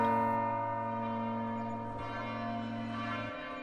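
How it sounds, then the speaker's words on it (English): A tolling, ringing bell tone from a Christmas song in the video game Deltarune, a single sustained struck note with long shimmering overtones slowly decaying, heard alone. "After all, the sleigh bells have yet to ring."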